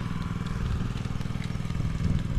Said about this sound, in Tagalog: tayo nagpandar na ng makina